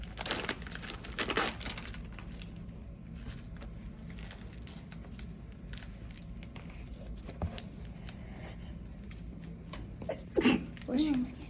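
A single sneeze bursts out near the end, in a quiet room during a blood draw while someone checks for a vein; a softer rustle comes earlier, and the whole scene is low in level.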